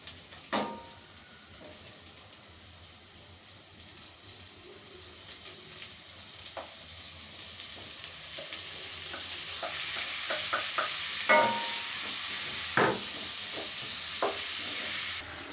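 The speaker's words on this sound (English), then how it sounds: "I've added my tomatoes and they are cooking really well" Tomatoes fry in a pan with golden brown onions, a steady sizzle that builds slowly, with clinks and scrapes of stirring scattered throughout.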